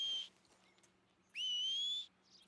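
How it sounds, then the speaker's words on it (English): Two sharp whistles call a horse in the video game Red Dead Redemption 2, a short high note followed after a pause by a longer rising one, clear and alone over faint game ambience. "Now I gotta whistle for my horse."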